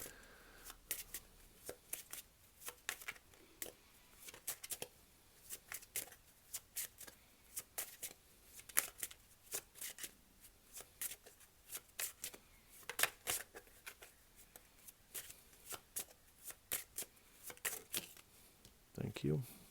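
Tarot cards being shuffled in a run of quick, crisp riffling bursts and soft flicks throughout, close and fairly quiet, with light speech around the card handling.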